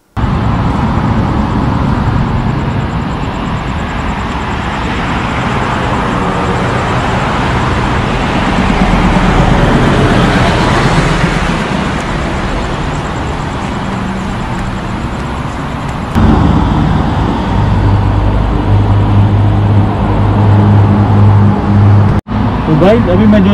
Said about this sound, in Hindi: यहाँ पे काफ़ी आवाज़ आ रही है और गाड़ियों का आपको जैसे सुनाई दे रहा होगा